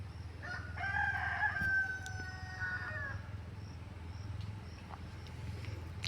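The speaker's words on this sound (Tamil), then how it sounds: "கோழி கொக்கரக்கோ சொல்லுது, கோழி கொக்கரிக்காரோ சொல்லுது." A rooster crows once, fairly clear but at a moderate distance, over a steady bed of rural ambience with insects chirping, followed by quieter outdoor background sounds.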